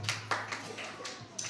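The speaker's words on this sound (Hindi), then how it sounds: "बजाओ ताली।" Audience clapping at a Hindi Christian sermon, several short bursts of handclaps at moderate volume over a steady low hum, with faint room noise between them.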